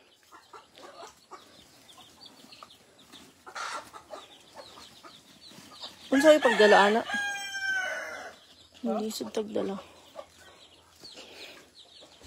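Farm chickens cluck in short scattered bursts, then a rooster crows loudly and nearby, with someone speaking Tagalog between the calls.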